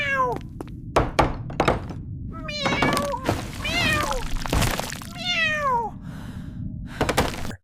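A cat meows repeatedly in a horror-styled SpongeBob scene, rising and falling cries over a steady low rumble, punctuated by sharp knocks and thuds, loud and close.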